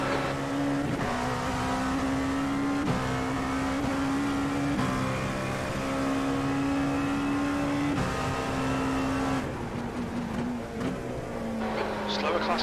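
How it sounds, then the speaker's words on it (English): A race car in iRacing, an IMSA prototype at Belle Isle, holds a loud, steady engine tone with gear shifts and brief dips, droning continuously with no voices. "Take care, there's a car approaching."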